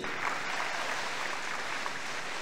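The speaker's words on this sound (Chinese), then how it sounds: "给他掌声鼓励" An audience at a sales seminar claps together in a steady, even wash of applause, fairly soft and distant, with no voices standing out.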